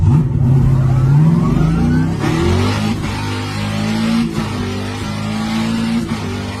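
A loud, close car engine revs hard and shifts through gears, pitch climbing and dropping with each change, aggressive and continuous with no voices.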